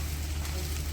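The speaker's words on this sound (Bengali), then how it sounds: "আর এই পাশে কড়াইতে হচ্ছে ডালটা যে তেলের মধ্যে দিব, সেজন্য তেল, তারপর রসুন, একটু পেঁয়াজ" Garlic and onion frying in hot oil in a wok, giving a brief, steady, close sizzle with no talk.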